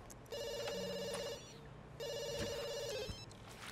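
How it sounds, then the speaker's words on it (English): Two bursts of an electronic telephone ring in The Sims video game, each a warbling tone lasting about a second, close and clear over a soft game backdrop. "I've heard it ringing enough."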